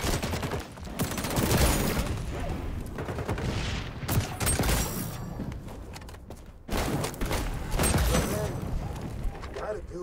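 Dense, continuous volleys of gunfire from the video game XDefiant rattle loudly with a brief lull midway, while a voice talks over the shooting throughout.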